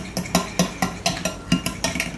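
A utensil stirs a flour and potato starch batter in a bowl, making about ten quick, evenly spaced clinks and scrapes, close and clear with no talking.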